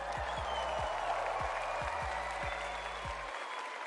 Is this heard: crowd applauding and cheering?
yes